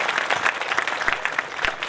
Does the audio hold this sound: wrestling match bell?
no